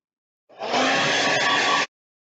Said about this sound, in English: dry a bunch of clothes with a hairdryer